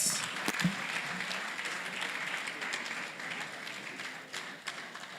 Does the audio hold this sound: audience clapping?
yes